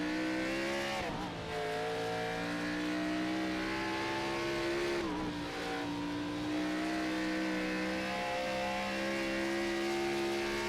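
Race cars at speed on the Portland International Raceway road course, engines whining and rising in pitch with two downshift dips, a continuous loud drone.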